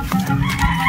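A chicken clucks close by over a steady background of rustling and low noise, with no voices.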